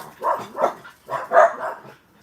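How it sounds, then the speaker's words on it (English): Several dogs bark near a Florida home: two quick barks, a short pause, then two or three more, loud and close with no talking. "All right, I'm gonna get these dogs in."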